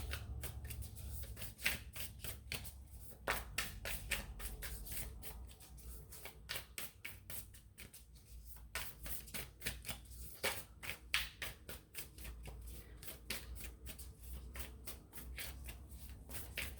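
Tarot cards are shuffled by hand, quietly and close up, in a long run of quick papery riffles and taps with short pauses between bursts.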